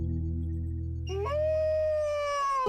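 Wolf howling in a Wild Kratts cartoon, a low droning tone followed by a single long, clear, rising then gently falling howl, loud and close, with no talk over it.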